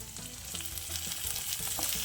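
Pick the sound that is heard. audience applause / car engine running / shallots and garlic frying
shallots and garlic frying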